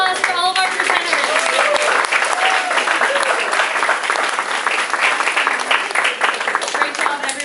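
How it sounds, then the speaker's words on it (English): Audience applause for presenters at a TED talk event, a steady dense wash of clapping that stays loud throughout, with voices and cheers mixed into the crowd. "One last round of applause for all of our presenters."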